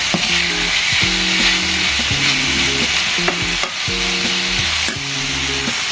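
Adobong sitaw with longganisa being stirred in a hot pan, a loud continuous sizzle broken by rhythmic scraping strokes of the spatula, close up, no one speaking.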